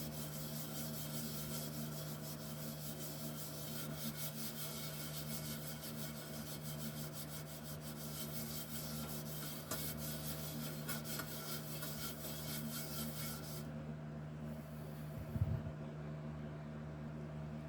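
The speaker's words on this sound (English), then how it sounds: "But I think with just a little bit of scrubbing here, we're going to get this thing good and" A pan being scrubbed with baking soda, a steady abrasive rubbing and grating that continues without a break, close and moderately loud, with one short knock near the end.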